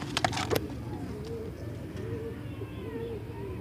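Pigeons at a Sunday bird market in Multan, including a Surkha pigeon and an Indian Lakhi hen, give soft repeated coos over a low ambient hum, with a few brief sharp knocks near the start.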